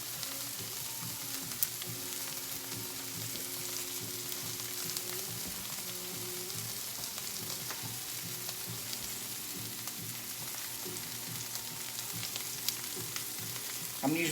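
Steak searing in a very hot pan on a stovetop, loud continuous sizzle and spitting fat held steady throughout, with a low hum underneath and no talking.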